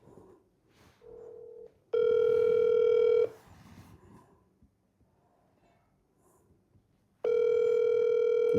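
Telephone tones while placing a call: a short low tone, then a long steady ringback beep lasting over a second, a pause with faint background noise, and another long beep near the end, loud and clear.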